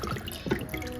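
Water trickling and dripping out of the bottom of a freshly repotted Anthurium's airy, well-aerated mix, a brief close wet patter of small drips and splashes.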